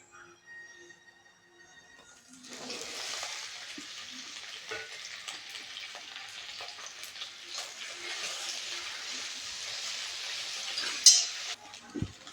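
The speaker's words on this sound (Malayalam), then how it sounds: "വെളിച്ചെണ്ണ ഒന്ന് ചൂടായി വരുമ്പോൾ നമുക്ക് നമ്മുടെ വെണ്ടയ്ക്ക അതിലിട്ടൊന്ന് വഴറ്റിയെടുക്കാം" Okra sautéing in hot coconut oil in a pan gives off a soft, continuous sizzle with occasional stirring scrapes, starting after a quiet opening.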